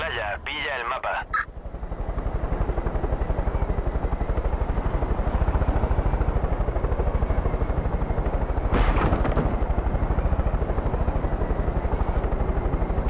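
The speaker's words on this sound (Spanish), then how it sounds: "Vale, aquí también tienen un helicóptero." A helicopter in the video game Far Cry 5 gives off a steady, loud rotor drone with a rhythmic chop, continuing unbroken for the whole stretch, with a brief sharp burst partway through.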